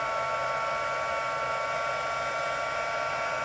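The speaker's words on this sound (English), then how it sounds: "when you heat it with the heat tool, it becomes more solid and shiny and white" A heat tool blows hard to melt embossing powder, a steady, close roar of rushing air that holds unchanged throughout with no talk.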